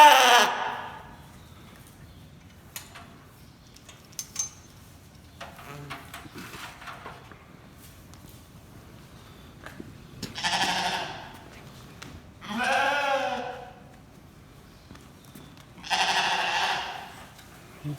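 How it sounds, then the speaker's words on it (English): A lamb being sheared with a head restraint bleats several times, loud close cries spaced a few seconds apart, with faint clicks and handling noises between them. "the patented, pending Caelan long restrainment system for shearing sheep head"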